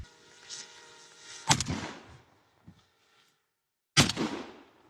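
Two heavy, distant booms several seconds apart, each a sharp crack followed by a rolling rumble, with quieter thuds in between.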